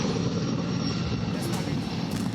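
A firefighting helicopter circles over a wildfire, its engine and rotor making a steady, loud rumbling drone throughout with no clear beat, while a voice talks over it.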